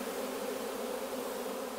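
Honey bees buzz in a dense, steady hum close around a hive, a continuous swarm drone with no voices.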